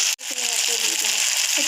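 Chilli chicken frying in a pan gives off a loud, steady hiss and crackle from close by, with a faint voice murmuring underneath.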